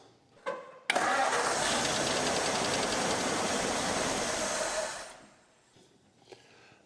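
An old 1939 Ford barn-find truck engine fires up after a short crank and runs roughly for about four seconds, loud and close inside a smoky garage, then dies away.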